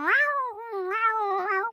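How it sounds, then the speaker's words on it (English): Cat in the Overwatch video game giving a single drawn-out, wavering meow of nearly two seconds, close and clear, rising and falling in pitch before stopping abruptly. "When Brigitte first started armoring the cats"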